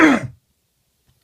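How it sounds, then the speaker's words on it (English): A single short, close throat clearing from an adult, a rough rasp that fades within half a second into silence. "Sorry, gotta clear my throat there."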